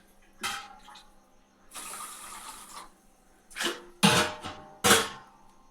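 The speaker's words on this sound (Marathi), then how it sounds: "हे पाणी टाकून घेते." Water pours into a pressure cooker in a few short splashing bursts, one longer pour and then quick sloshes, close and fairly quiet.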